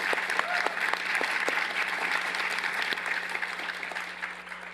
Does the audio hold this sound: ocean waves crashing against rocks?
no